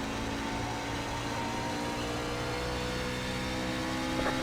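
A steady, droning NASCAR race truck engine in the iRacing video game holds a constant high-revving note throughout, continuous and unbroken, with no voices.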